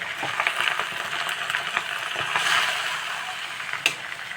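Coriander thokku sautés in a pan, a continuous soft sizzle broken by scattered light clicks and scrapes of stirring, with one sharper tap near the end.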